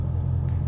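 A supercharged 710hp Ford Mustang engine idles with a low, steady rumble heard close up, continuous and even.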